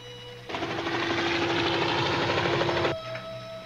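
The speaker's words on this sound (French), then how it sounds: "Il y a un hélicoptère qui vient par ici." A helicopter in a scene from the Green Hornet television series: a loud, steady, throbbing rotor and engine drone cuts in suddenly, holds for about two and a half seconds, then drops away.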